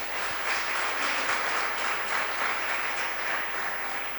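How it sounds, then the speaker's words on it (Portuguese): A church congregation applauds steadily, a dense even wash of many hands clapping at moderate volume throughout, with no speech over it. "Aplauda Jesus por isso."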